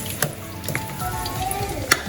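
Chicken lollipop ingredients are stirred together in a sizzling pan, a continuous close frying hiss broken by a few sharp spoon-on-pan clinks.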